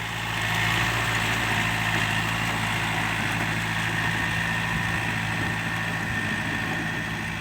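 A new Yanmar 51 hp tractor tilling a muddy rice paddy, its diesel engine running in a steady, continuous drone with a low hum throughout.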